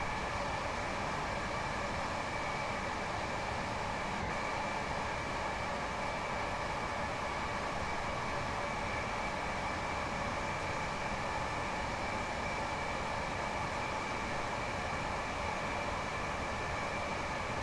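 A train runs steadily in Train Sim World, a faint, continuous rumble and hiss with a constant tone that holds unbroken from start to finish, with no voices over it.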